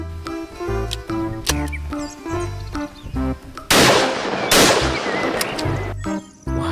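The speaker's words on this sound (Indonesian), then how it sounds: "Wow, shotgun double barrel." A Nerf double-barrel shotgun toy fires with a couple of sharp, noisy bursts set against loud background music.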